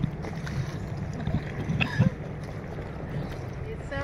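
Bumpy boat ride across open water toward the Miami sandbar, with continuous rushing wind and water noise, irregular thumps from the hull hitting waves, and people talking nearby.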